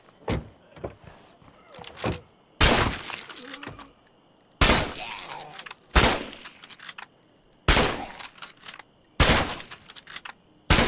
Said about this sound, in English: That was the sound of my last shot.